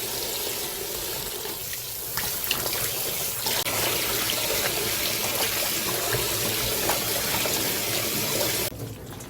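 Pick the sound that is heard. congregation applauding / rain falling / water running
water running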